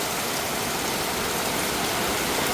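Steady, dense rain pours down without a break, a loud, even hiss that fills the whole moment with no voices.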